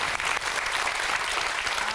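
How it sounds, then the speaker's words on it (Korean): Steady, full applause from a studio audience at a Korean talk show, dense continuous clapping at close range with no speech over it. "박수로 청해보죠."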